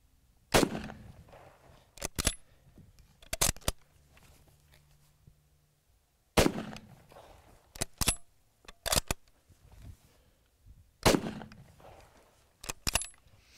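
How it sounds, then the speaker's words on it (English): A Lee Enfield No. 4 Mk.1 rifle fires several sharp, cracking shots in separate bursts, each followed by quieter metallic clicks of the bolt being worked, with short pauses between volleys. "But it is just such a fun gun to shoot."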